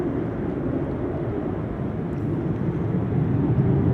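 Boeing 777 airliner approaching Amsterdam Schiphol Airport during a storm, heard as a distant, steady broadband jet roar that swells slightly louder toward the end, with no talking.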